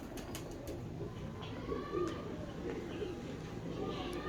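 Soft, low cooing of Teddy pigeons repeats under steady background noise, with a few distant clicks.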